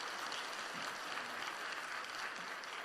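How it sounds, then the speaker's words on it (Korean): A church congregation at an evening revival meeting applauds visiting students, a soft, even wash of many hands clapping from a distance, continuous and without speech. "박수 한번 쳐줘"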